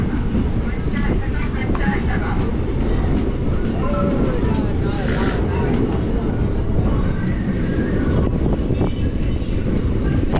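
The Rajya Rani Express, running from Alipurduar to Silghat Town, rolls along the rails with a steady, loud, unbroken rumble and rattle throughout, and faint voices may sit in the background.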